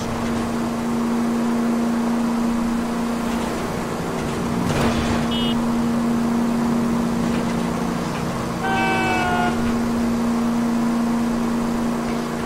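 Steady in-game car engine hum while driving in L.A. Noire, set in 1940s Los Angeles, with a constant low drone throughout and brief higher tones over it, no talk.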